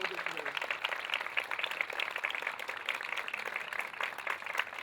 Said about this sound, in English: give your families a huge round of applause